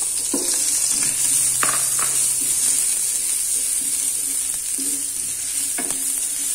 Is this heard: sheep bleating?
no